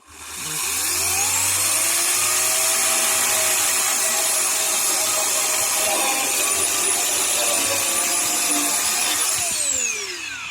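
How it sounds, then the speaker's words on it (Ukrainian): A Mächtz MCE-2940 electric chainsaw soft-starts and spins up to a loud, steady whine, its motor pitch rising and holding for several seconds before winding down at the end, with no other sounds. "Цей плавний старт дуже добре на руки, менше рве руки вона спокійно, адекватно запускається."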